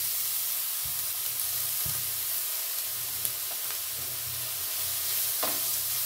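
Grated pointed gourd fries in a pan with a continuous close sizzle, while a spoon stirs it with a few soft scrapes and knocks.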